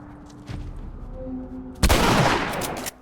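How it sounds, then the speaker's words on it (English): A shotgun blast in The Last of Us, one loud close report with a sharp onset that rings out for about a second over quieter ambient game sound. "The modern equivalent. The shotgun."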